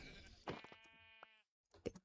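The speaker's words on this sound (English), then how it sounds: "Hello, sheep." Sheep bleating in a survival video game, a few harmonic bleats close by, a long cry followed by a shorter one after a brief pause.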